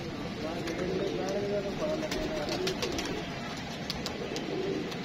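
Pigeons coo steadily through a night-time training session at a home pigeon loft, with soft bird calls running nearly continuously beneath a constant background hum.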